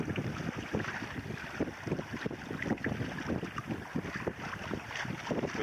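A sailboat sails close-hauled during the Everglades Challenge, with a constant rush of wind buffeting the microphone and water washing and slapping against the hull, steady and fairly quiet, with no voices.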